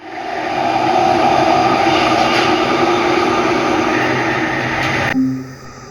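A steady, loud rumbling roar with a broad, noisy hiss, like a subway train in motion, fading and cutting off near the end.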